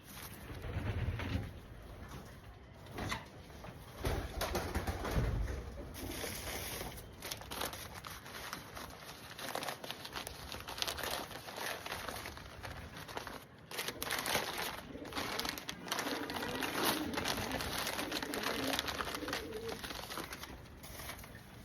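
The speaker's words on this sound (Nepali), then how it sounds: "यो गाइस परेवा खोलिसके हेर्नुहोस्, खोरभित्र है, खोरमा छ यिनीहरू हो" Caged pigeons coo softly and steadily for a long stretch amid constant rustling and background noise, with no talk.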